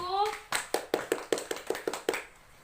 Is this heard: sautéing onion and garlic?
no